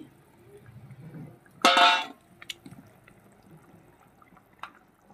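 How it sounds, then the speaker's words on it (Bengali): Fried egg poaches poured all at once into a pan of simmering egg curry, giving one brief loud splashing sizzle with a clatter, then settling to quiet low bubbling and a few faint clinks. "এই পর্যায়ে আমি ডিমের পোস্টগুলো দিয়ে দেব। একবারেই ঢেলে দিচ্ছি।"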